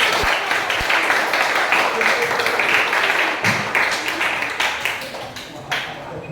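A classroom breaks into applause after a student group finishes its presentation, a dense, steady patter of many hands clapping that fills the room, with voices murmuring underneath.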